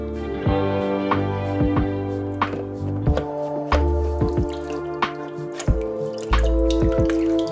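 Water drips and plops from a toy octopus lifted out of a basin, a steady series of close, crisp drops and small splashes falling at uneven intervals without talk.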